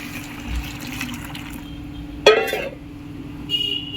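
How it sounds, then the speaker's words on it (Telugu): Hot water, about a litre and a half, poured for soaking kitchen cleaning cloths, with a brief splashing gush in the middle over a steady low hum, then a faint high hiss near the end. "నేను ఒక లీటర్న్నర వాటర్ తీసుకుంటాను వేడి వాటర్"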